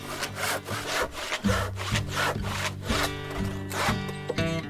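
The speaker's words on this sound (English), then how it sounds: "I'm screwing each of these sections of stovepipe together with self-tapping screws" Self-tapping screws bite into steel stovepipe sections as they are joined, a rhythmic grinding, rasping whir repeated in close strokes over a low steady hum, with no talking.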